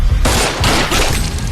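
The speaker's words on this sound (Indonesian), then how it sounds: "Ia dengan kejam menghabisinya dengan beberapa kali tembakan." Police gunfire in a film scene, a dense burst of repeated loud shots after a brief quiet start, continuing in rapid overlapping volleys.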